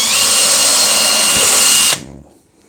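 A power drill whirs loudly and steadily at close range for about two seconds, then cuts off abruptly and spins down into silence.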